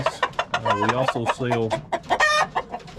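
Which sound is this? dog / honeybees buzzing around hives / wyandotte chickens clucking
wyandotte chickens clucking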